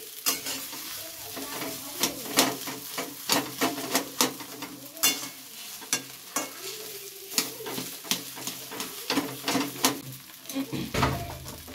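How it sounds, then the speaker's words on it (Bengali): Potatoes fry in a hot pan with a steady sizzle, broken by frequent sharp scrapes and clinks of a spoon stirring against the metal, close and fairly loud throughout. "আবারও ভালোভাবে আলুটাকে ভেজে নেব"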